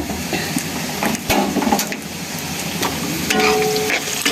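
Onions fry in a pan with a little salt and chili powder for a chicken roast, giving a loud, steady sizzle broken by sharp wooden scrapes and knocks as they are stirred.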